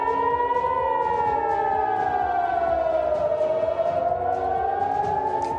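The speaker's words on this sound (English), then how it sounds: "Sirens blare in Jerusalem as the two countries trade missile strikes" Civil defense sirens blare in Jerusalem during missile strikes between Iran and Israel, a loud steady wail that slowly dips and rises in pitch, with faint background noise beneath.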